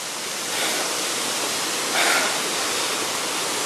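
A waterfall in a rocky gorge pours in a steady, loud, broadband rush that stays constant throughout, swelling slightly midway, with no voices over it.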